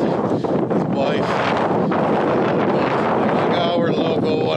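Strong wind buffeting the microphone on a hiking trail at Gros Morne, Newfoundland, a loud continuous roar with gusty rumble throughout and faint voices underneath.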